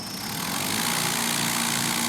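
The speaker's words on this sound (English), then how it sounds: "All you're hearing is the sound of the air compressing and exiting the exhaust port." A dynamometer spins an air compressor in a quality lab, and air rushes out of the exhaust port as a loud, steady mechanical hum and whoosh with no talking.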